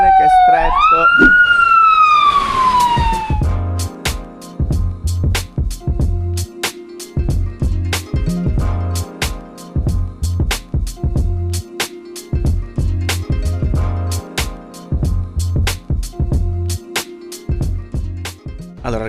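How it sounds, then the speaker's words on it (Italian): An ambulance siren wails nearby on a narrow street in Mostar, loud and sweeping at first before giving way to a close, busy street scene with steady rhythmic clatter and someone speaking. "attenzione perché sta passando l'ambulanza"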